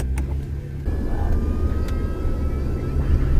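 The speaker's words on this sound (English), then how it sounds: "I can rev it." A car engine rises from a low idle into a steady, loud revving drone that holds for several seconds.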